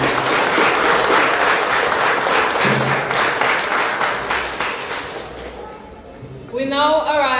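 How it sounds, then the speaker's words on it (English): A crowd at an opening parade ceremony applauds loudly and steadily for several seconds, the clapping thinning out before a voice begins speaking over a brief musical sting. "Can I get one more round of applause for the Prime Minister, please?"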